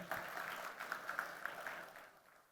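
Faint applause from an audience at an urban co-operative banking summit and awards event, a brief spell of scattered clapping heard from a distance that fades toward the end.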